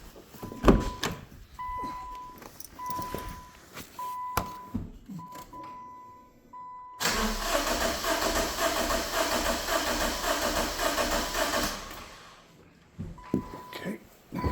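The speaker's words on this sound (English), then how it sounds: "So let's crank it and see what we get out of the compression." Starter cranking a 2012 Subaru Legacy engine during a compression test, a loud, close, steady churning run of about five seconds with no firing, preceded by a technician talking and tool clatter.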